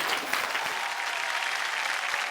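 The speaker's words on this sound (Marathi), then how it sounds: "एकदा जोरदार टाळ्या होऊन जाऊ देत." Loud, continuous audience applause at a Marathi women's TV game show, a dense even wash of clapping with no gaps from start to finish.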